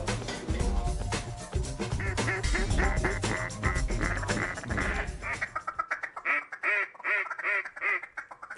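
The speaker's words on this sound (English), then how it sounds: "We got a bunch of ducks, a bunch of mallards" A mallard duck hunt with retrieving dog: loud gunfire-like bursts and rustle dominate early, then a run of rhythmic, nasal mallard quacks repeats clearly near the end, fairly close and alone.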